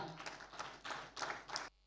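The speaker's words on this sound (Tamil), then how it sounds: "ஒரு பிரம்மாண்டமான கைத்தட்டலுடன் ஆரம்பிக்கலாமா?" Audience applause at an award ceremony, a business star awards night, rising in several swelling bursts of clapping that fill the hall before cutting off abruptly.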